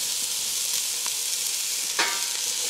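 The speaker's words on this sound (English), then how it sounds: "Now we're going to add the onions," Onions hitting a hot Dutch oven for a braised beef short rib sauce, giving a steady, loud broadband sizzle with a brief stirring scrape near the end.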